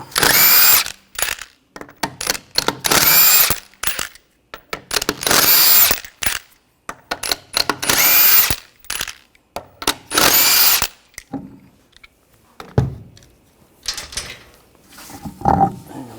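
A power tool with a 21mm socket removes a wheel from a 2014-2020 Nissan Rogue, running in loud repeated bursts roughly a second long with short gaps, then giving way to quieter clanks and handling.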